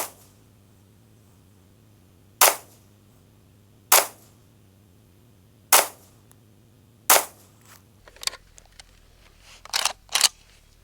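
Four loud, sharp rifle shots ring out at an outdoor shooting range, spaced a second or two apart, followed by a faster cluster of quieter cracks and clatter.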